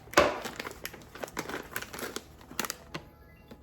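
A knife slices into a vacuum-sealed coffee bag, producing close, crisp crinkling and tearing crackles of stiff foil packaging in a quick irregular burst, loudest at the start then softer rustles.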